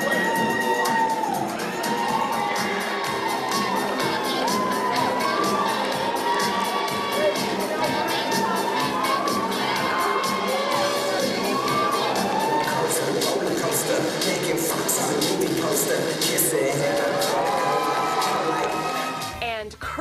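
A pageant audience at the 2012 Mr. Fountain Valley Pageant cheers continuously, with loud shrieks, whoops and shouted voices from a dense crowd filling the whole stretch and dropping away only at the very end.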